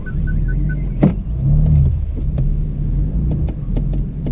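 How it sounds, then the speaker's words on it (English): A BMW M4 with a tuned S55 engine and anti-lag running, heard from inside the car as a loud, steady low rumble under acceleration, with a few faint clicks over it. "you guys will be able to see me pressing the anti-lag button while I accelerate."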